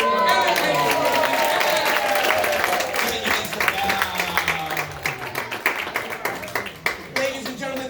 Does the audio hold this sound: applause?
yes